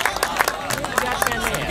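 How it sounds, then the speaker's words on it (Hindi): Audience clapping at a mushaira poetry gathering, a burst of brisk, uneven claps with crowd murmur, fairly close and moderately loud, with voices mixed in. "जोरदार तालियां होनी चाहिए।"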